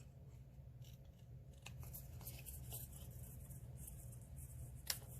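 Scissors snip through cardstock for a seashell-themed card, a faint close series of small crisp cuts and clicks over a low background hum, ending with one sharper snip.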